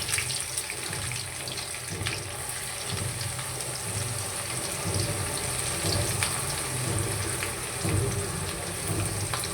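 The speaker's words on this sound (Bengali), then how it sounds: "পেঁয়াজগুলো ভালো করে ভেজে নিব।" Chopped onions frying in hot oil with cardamom and cinnamon, a steady close hiss and crackle with watery, tap-like texture running evenly throughout, no voices.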